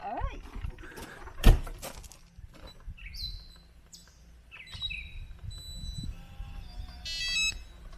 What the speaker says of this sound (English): you know what that beep means?